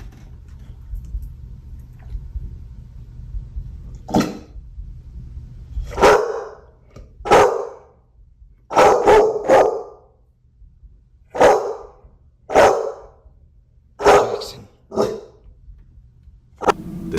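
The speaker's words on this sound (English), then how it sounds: "The dog seems to react and bark aggressively at the door" A dog barks aggressively at a door in a dim house, sharp loud barks coming in irregular bursts, sometimes doubled, over a low background hum.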